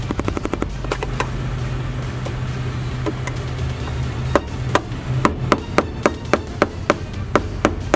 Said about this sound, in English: after hammering for quite some time, I was able to remove the metal ring